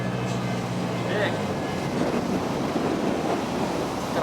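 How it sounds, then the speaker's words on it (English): Wind blows hard outdoors at a roadside attraction in Brooksville, Florida, a continuous rushing buffet across the microphone that holds steady and loud throughout, with no speech heard over it. "It's a little windy out here."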